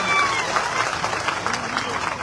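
A crowd applauds at a Maratha rally addressed by Manoj Jarange Patil in Antarwali Sarati, with a dense, steady patter of clapping lasting a couple of seconds and no talk over it.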